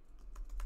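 Keys tapped on a computer keyboard while writing JavaScript code, a few quiet clicks at a steady pace with a soft burst near the end, close and faint with no talking.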